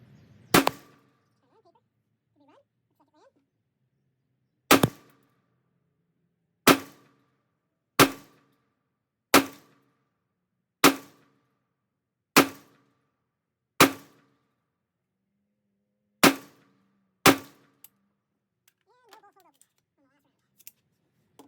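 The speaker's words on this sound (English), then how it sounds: "So I put 10 shots down range." Ten sharp gunshots from a Ruger SFAR rifle at an outdoor range, fired at uneven intervals a second or two apart. Each crack is loud and near and decays quickly, with a faint voice before and after the shots.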